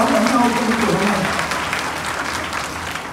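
Applause from an audience at a church youth summer camp, a dense, steady clapping that fills the room and stays loud throughout with little change.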